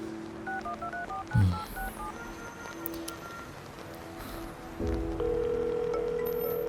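Phone keypad tones beep in a quick run of short, distinct notes as a number is dialed, followed by a sustained tone, all over a soft, steady background hiss.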